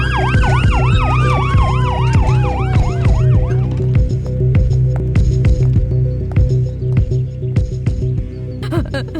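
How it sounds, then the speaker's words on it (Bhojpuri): A loud wailing ambulance siren sweeps up and down close by for several seconds, then gives way to rhythmic clicking and rattling. "गोपी एम्बुलेंस के फोन करा।"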